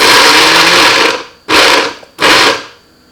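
Blender grinding chili peppers for kale kimchi: a loud, close motor whir running for about a second, then two shorter bursts after brief stops.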